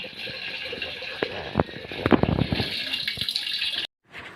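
Water runs steadily from a tap into a kitchen sink in a native house, a continuous splashing gush with a few louder spatters, cutting off abruptly near the end.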